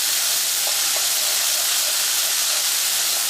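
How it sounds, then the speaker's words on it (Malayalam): Ginger garlic paste hits hot oil in a pan for a Kerala cauliflower curry, giving a loud, steady, close-up sizzling hiss that holds evenly without a break and with no talking. "നമുക്ക് ജിഞ്ചർ ഗാർലിക് പേസ്റ്റ് ഈ എണ്ണയിലിട്ടിട്ട് നമുക്കൊന്ന് വഴറ്റിയെടുക്കാം"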